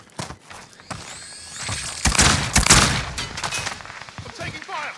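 Gunfire in the Call of Duty Modern Warfare video game: a loud fusillade of rapid shots and bursts peaking in the middle, with quieter scattered shots before and after.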